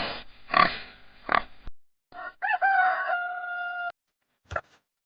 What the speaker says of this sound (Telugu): ఇవి కోళ్ళు.